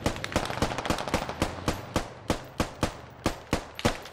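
Machine-gun fire from the video game Squad, with tracer rounds: a steady string of sharp, loud bursts, about three to four shots a second, close and unbroken, with no talk over it.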